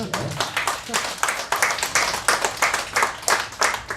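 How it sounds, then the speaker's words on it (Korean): A church congregation claps during a Sunday worship service, the sharp rhythmic claps coming in quick regular bursts from a moderately sized group in a reverberant room. "우리 박수 한번 해주겠습니다"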